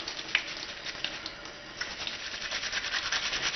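A brush scrubs a mouthguard with a few drops of Curadent cleaner, giving rapid, close, rough scratchy strokes in an uneven rhythm.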